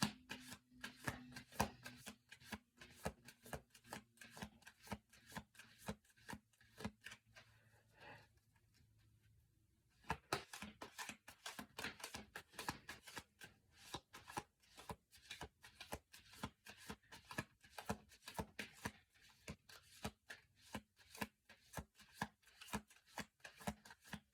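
Continuous rapid riffling and snapping of playing cards being shuffled close by, with a brief quiet pause partway through before the shuffling resumes.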